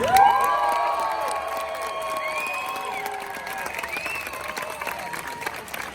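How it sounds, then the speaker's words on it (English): Audience applause and cheering at Politicon, a political convention, rising loudly as a speaker is introduced, then continuing as a dense, steady wash of clapping mixed with crowd voices for several seconds. "give a big round of applause to the head of Turning Point USA, Charlie Kirk."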